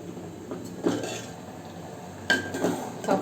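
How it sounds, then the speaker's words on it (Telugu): A lid goes onto a pot of cooking dal with tamarind, making a couple of close metallic clanks and clinks over a low background hum. "మూత పెట్టేస్తున్నాను."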